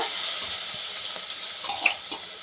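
Onion and green chilli paste frying in a pan, a close steady hiss of sizzling oil with a few soft scrapes of a spoon stirring.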